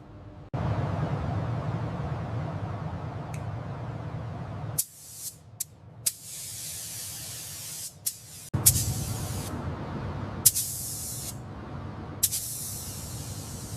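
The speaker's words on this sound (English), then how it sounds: "Using the HVLP gun, we apply the clear coat in smooth, overlapping passes to achieve this deep, mirror-like finish on the bumper." An HVLP spray gun lays clear coat onto a car bumper in a Nissan GTR restoration, producing loud, close bursts of hissing spray that start and stop in several passes with brief pauses between them.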